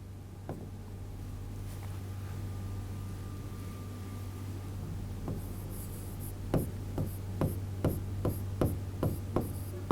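Chalk writes on a classroom blackboard during a chemistry lesson, faint scratching at first, then a run of about ten sharp, evenly spaced taps and strokes close by, with no talk over it.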